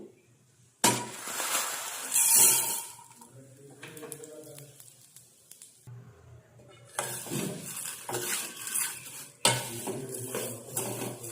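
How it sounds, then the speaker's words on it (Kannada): Vermicelli roasting and being stirred in a pan for kheer, with scraping and rattling of a utensil against the pan in bursts, a faint sizzle, and a brief voice in the middle. "ಇವಾಗ ಶಾವಿಗೆ ಹಾಕಿ ಹುರ್ಕೋತಾ ಇದ್ದೀನಿ."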